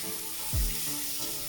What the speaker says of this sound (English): Give that a stir, mix everything up, turn the heat down so it doesn't burn the spices that are in.